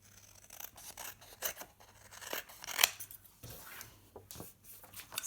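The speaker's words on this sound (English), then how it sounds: "just trim the sides a little bit" Scissors snip along the edges of a papercraft Christmas project, a series of quiet, close cuts and rustles with one sharp crisp snip in the middle.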